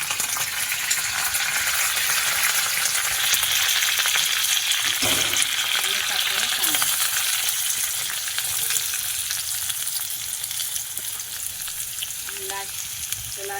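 Garlic, green chilli and curry leaves fry in hot oil with asafoetida for a Marathi tempered-chapati dish, a loud continuous sizzle and crackle with occasional stirring scrapes, the hiss easing slightly toward the end.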